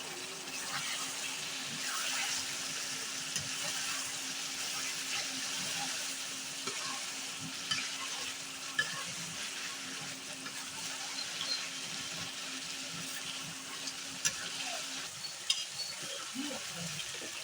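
Village-style Sonali chicken curry being stirred in a pan, a steady broad sizzle under occasional scraping and clacking of a spoon against the pan, close and continuous.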